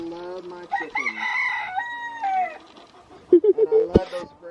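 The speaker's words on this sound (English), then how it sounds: "She's got lots of chickens in here." Chickens in a coop: a rooster crows loudly near the start, followed by shorter clucks and squawks, close and clear, with no talking.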